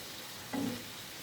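Pieces of chicken frying in oil are flipped to the other side, producing a short, brief flare of sizzling. Quieter background noise comes before and after, with no talk.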